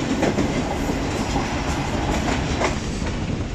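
The Mehr Express passenger train rolls along the rails at night, a steady loud rumble with rhythmic clickety-clack of wheels over rail joints, heard from inside an AC coach with no talking.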